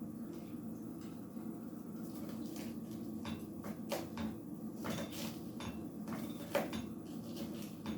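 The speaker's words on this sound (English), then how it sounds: "you're going to just chop that up again into smaller pieces" Knife chopping sandwich ingredients on a cutting board in a home kitchen, a run of irregular sharp taps and knocks over low background hum, no talking.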